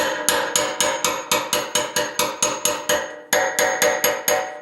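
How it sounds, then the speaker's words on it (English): A hammer taps a chisel against the steel tank of a 1974 Yamaha RS 100 motorcycle to work out a dent, about twenty sharp, ringing metallic strikes in a steady, quick rhythm, close and alone. "Just using my chisel so I don't go and miss and put another dent in."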